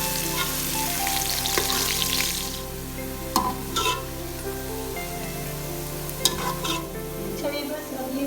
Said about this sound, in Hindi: इनको फ्राई कर रही हूँ।